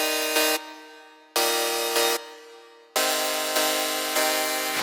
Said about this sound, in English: Layer it with a square saw patch.